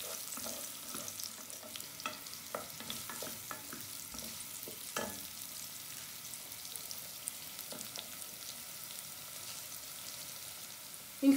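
Onions and garlic gently sweating in a pan, giving a soft, low sizzle with intermittent stirring scrapes and clicks, fairly quiet and close, with no one speaking.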